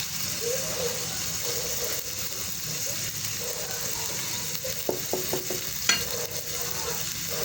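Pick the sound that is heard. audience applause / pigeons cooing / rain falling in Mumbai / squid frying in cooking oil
squid frying in cooking oil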